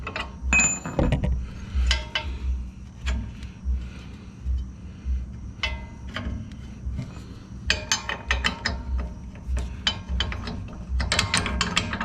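A hand ratchet clicks in quick, repeated bursts while tightening a bolt on a 2021 Ford Bronco during a 2-inch lift kit install, the sharp pawl ticks close and loud over a low background hum.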